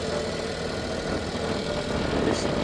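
Suzuki dump truck engine idling at close range, a steady low rumble with a light knocking texture, running alone without voices for a few seconds.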